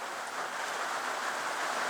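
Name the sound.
rain outside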